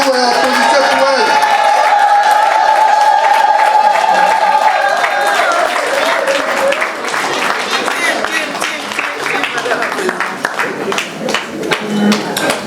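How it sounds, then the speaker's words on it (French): An audience gives a standing ovation at an installation ceremony in Paris. Tonal music or voice opens the clip, then dense, sustained applause and crowd noise build and carry to the end. "Vos mains, levez-vous et applaudissez pour elle."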